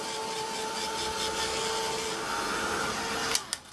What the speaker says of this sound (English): So just bring out the heat gun,